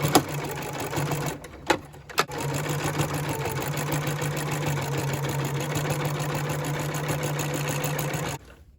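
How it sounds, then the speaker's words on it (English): A sewing machine stitches gathered scrap fabric for a pumpkin, running in a steady close whir with two brief pauses before it stops. "we're going to go ahead over to the sewing machine and sew on the side of the gather all the way around"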